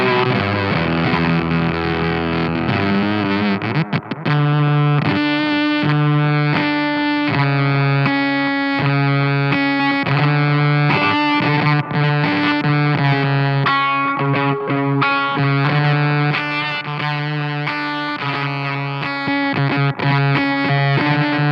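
An electric guitar run through a Valco Bloodbuzz overdrive and fuzz pedal, played with thick, saturated, buzzing chords and sustained notes, loud and continuous with no talking.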